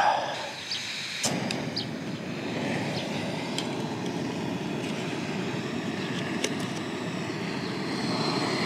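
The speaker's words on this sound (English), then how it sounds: "Light the burner." A Jetboil camping gas burner catches with a sharp click and settles into a steady, close, even roar that holds for several seconds.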